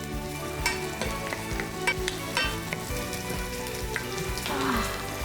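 Onion and garlic browning in butter in a pan, a steady loud sizzle with crackling spatters and occasional scraping stirs throughout, no voices.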